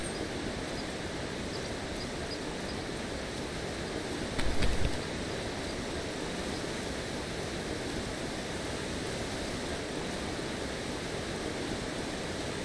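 A waterfall in the video game Eastshade roars as a constant broad rush of water, steady and fairly close, with one brief thump partway through and no voices.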